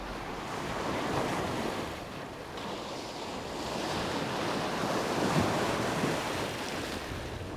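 A steady wash of sea waves rolls against the shore, with broad rushing noise and gusty wind throughout.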